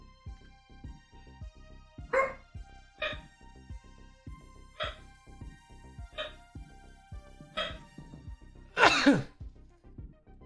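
A dog barks six times at uneven intervals, indoors and fairly close, reacting to kids outside; the last bark is the loudest and longest, with quiet room sounds between the barks.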